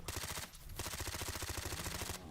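Fast, loud automatic gunfire in S.T.A.L.K.E.R. GAMMA as a full magazine is emptied at a Black Chimera, a rapid, evenly spaced stream of shots with one brief break, no voices.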